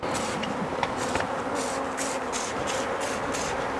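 Buckfast honey bees swarm in the air around an open hive, a dense continuous buzzing close by with faint rhythmic pulses beneath.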